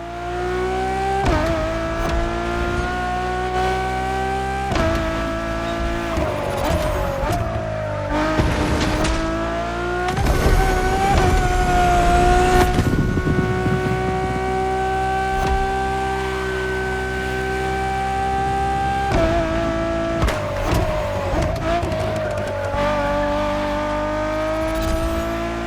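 A Ferrari Enzo in The Crew Motorfest roars loudly through repeated gear changes, its engine pitch climbing and dropping in sweeps, with tire squeal and passing whooshes and no talk.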